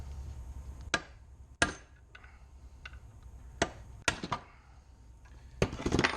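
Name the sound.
chisel punching out rivets with hammer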